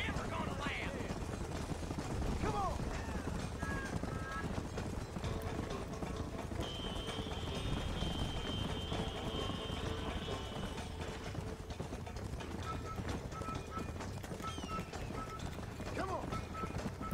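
A horse gallops in Red Dead Redemption with a continuous rhythmic clip-clop of hooves under ambient game sound. A few faint tonal effects come and go in the background.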